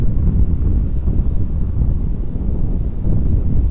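Strong wind buffeting a microphone outdoors at an airport, a loud continuous low-frequency rumble and roar that swells and dips throughout, with no voices.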